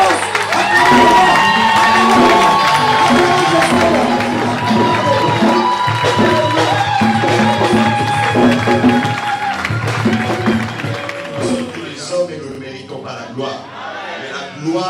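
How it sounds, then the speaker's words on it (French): A church congregation cheers and applauds loudly for Pastor Christian, a dense, sustained roar of voices and clapping with music underneath that thins out toward the end. "Je prie au pasteur Christian, comme il avance. Acclamons-le."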